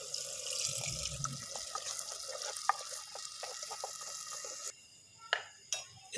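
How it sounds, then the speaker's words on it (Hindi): Half a glass of water poured into a pan of chicken curry masala, a steady running splash with a few clinks and drips, close and fairly faint, ending with brief pops. "इसके अंदर मैं तकरीबन आधा गिलास पानी का शामिल करने लगा हूँ।"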